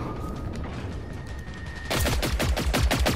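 Gunfire erupts in the Generation Zero shooter game, a loud rapid burst of automatic shots after a quieter stretch of distant game noise.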